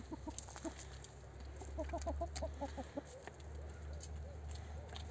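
Chickens cluck in short repeated bursts over a low steady hum, a rooster among them, moderately close, with faint background noise.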